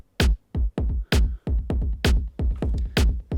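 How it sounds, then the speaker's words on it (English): A soloed groove chain of delay echoes from a pulsating techno kick drum: about a dozen punchy, booming thumps in a steady, slightly swung rhythm, each ending in a clipped decay. "These are a bunch of echoes of the original"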